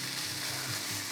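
Marinated jackfruit sizzling in a hot pan, a steady, dense frying hiss throughout at fairly close range.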